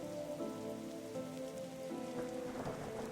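Steady rainfall in the game The Darkside Detective, a continuous dense patter of drops on surfaces with soft low tonal music running underneath throughout.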